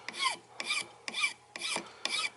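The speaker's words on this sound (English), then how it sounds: "I just kind of start at that end, file a little bit, and then just slowly work my way forward" A file rasps across wood, beveling an end during a Martin guitar neck reset: five even back-and-forth strokes, close and distinct, each a short scratchy rasp separated by brief pauses.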